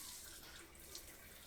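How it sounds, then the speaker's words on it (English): Water streams steadily from a BARROCK brushed nickel bathroom faucet sprayer set to its forward stream mode, giving a continuous close rushing hiss with no talking. "as you can see, it has this forward stream"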